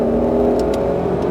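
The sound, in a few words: Mustang Shelby GT500 accelerating on a race track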